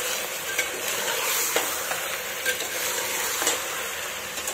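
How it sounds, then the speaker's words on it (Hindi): Mutton for dal gosht fried in a pot, a continuous close sizzle with occasional spoon scrapes and light knocks against the metal. "और अब हम डाल देते हैं इसके अंदर मटन। गोश्त को अच्छे से भून लेते हैं।"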